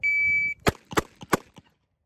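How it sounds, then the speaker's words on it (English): A 1911 handgun fired after a shot-timer beep: a sustained electronic tone, then several sharp loud gunshot cracks in quick succession, the last one fainter. "Finger on the gas, thumb on the thumb safety, drop the safety, gun goes off."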